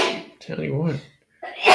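A single sneeze bursts out close by outdoors among crunchy dry leaves, followed by a short pause and a voice beginning to speak.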